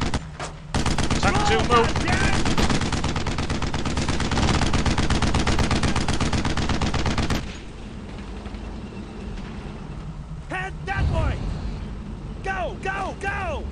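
Sustained rapid gunfire crackles in the World War II shooter Brothers in Arms, loud and continuous for several seconds, then sparser shots mix with shouted commands as soldiers talk over the fighting.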